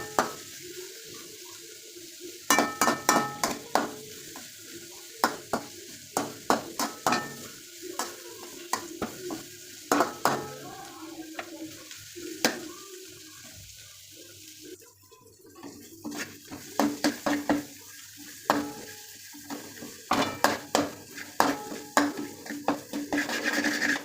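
Chopped ingredients get stirred in a kadai, a run of repeated scraping and clinking strokes of a spoon against the pan, fairly close and irregular in rhythm, with a soft wet sizzle underneath.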